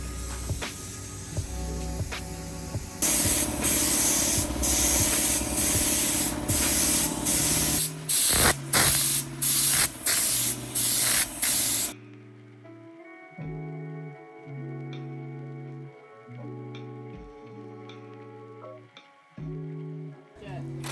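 Spray gun applying Raptor bed liner coating to a vehicle's front bumper: loud continuous hissing spray bursts in the first half, broken into short pulses, then quieter intermittent spraying with tonal compressor hum.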